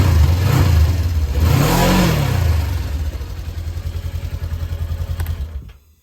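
Engine of a fire-damaged RZR side-by-side running loud and close after being revived with starting fluid, revving up in two surges then settling into a steady rumbling idle before cutting off.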